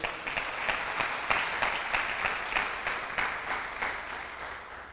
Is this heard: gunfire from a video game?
no